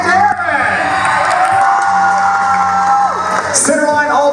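A live crowd whoops, yells and cheers loudly and continuously for the red team at a Fear Factor Live stage show in Florida, with a host's voice sounding over the noise.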